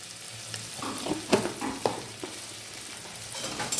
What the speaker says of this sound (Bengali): দিলাম, দিয়ে নাড়ছি, একটু ফ্রাই করে নিই।